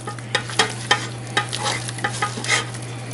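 Choux pastry dough being stirred around a hot pan on a burner, with a run of soft scraping and slapping strokes at an uneven rhythm over a faint steady hum, close and fairly quiet.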